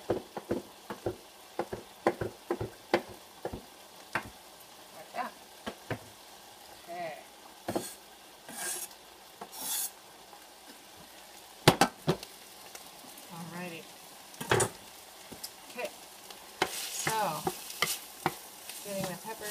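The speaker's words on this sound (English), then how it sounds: "getting the peppers, onions, portabellas cooking nicely" Peppers, onions and portabella mushrooms sizzle in a pan while being stirred, with frequent scraping and clacking spatula strokes over a quiet fry.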